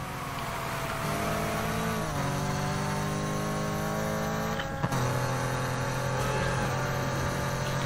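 Racing car engine from Need for Speed Heat, a BMW M3, revving hard and shifting through gears in a street race, a loud continuous drone with rising pitch sweeps and a brief dip near the middle, no voices.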